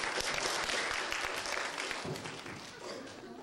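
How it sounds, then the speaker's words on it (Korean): Applause at a student poetry recitation contest as the first elementary contestant is introduced, a dense wash of clapping from a seated audience, steady and then slowly tapering off. "박수!"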